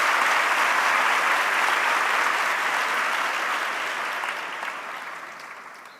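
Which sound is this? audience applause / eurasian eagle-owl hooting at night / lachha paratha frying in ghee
audience applause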